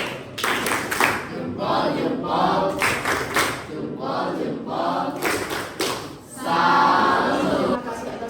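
A school class claps together in short rhythmic bursts, mixed with group chanting voices, fairly loud and close throughout.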